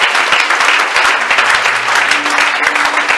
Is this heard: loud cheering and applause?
yes